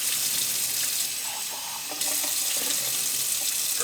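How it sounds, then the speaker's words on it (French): Running tap water rinses a pot of small sprouting seeds at a sink, a steady close splashing gush with a brief dip in flow before it surges again. "Je rince mon pot avec les petites graines pour essayer qu'ils sortent en tout du pot."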